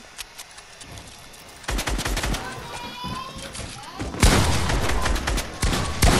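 Fortnite gameplay gunfire: rapid bursts of automatic shots and fusillades, loud and close, growing denser in the second half, with a voice talking in between.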